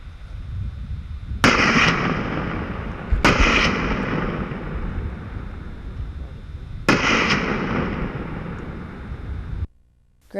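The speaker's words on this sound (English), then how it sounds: "this canyon shot is pushing the limits of Jim's 458" .458 calibre hunting rifle fired in a canyon: three sharp, powerful cracks a few seconds apart, each followed by a long, rolling echo off the canyon walls that fades before the next shot.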